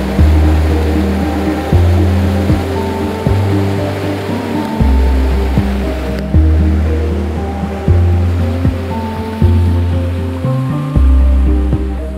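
Up close, a waterfall gives off a steady, loud broadband roar. Low wind rumble rises and falls in regular surges beneath it, with no voices.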